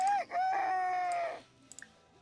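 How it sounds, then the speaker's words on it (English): A chicken in The Sims 4 video game lets out one long, drawn-out crowing call, fairly close, followed by a few faint clicks and then near silence. "Where are these chickens going?"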